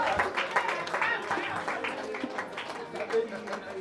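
Wedding guests clap at a celebration for the bride and groom, a moderate run of applause mixed with crowd chatter and voices, somewhat distant and fading unevenly.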